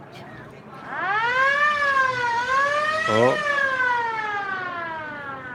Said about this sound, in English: You get to hear what the siren sound like right there for the police car.